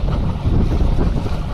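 Steady wind roaring across a fishing boat out on open water off the Florida Keys, a loud continuous rumble with no voices.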